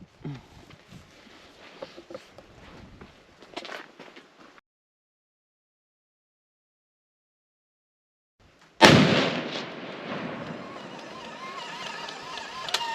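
One loud rifle shot at an outdoor shooting range, fired with factory ammunition: a sharp crack after a stretch of near silence, then a rumbling tail of noise that lingers. Quieter handling and rustling come before it.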